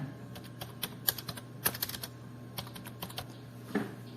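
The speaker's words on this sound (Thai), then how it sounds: "ก็พิมพ์หมายเลขบัตรประจำตัวประชาชนของเราลงไปนะครับผมกรอกลงไปนะ" Someone types an ID number on a computer keyboard, with close, sharp key taps coming in irregular bursts and a louder clack near the end, over a faint background hum.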